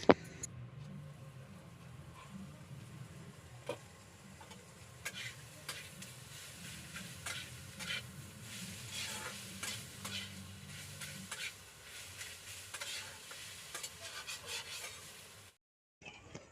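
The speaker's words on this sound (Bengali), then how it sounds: "আর কিছুটা না বাঁধাকপি দিয়ে ভাজছি" Cabbage fritters fry in hot oil with a steady close sizzle, while a utensil repeatedly stirs and scrapes through the pan for the whole stretch before cutting off near the end.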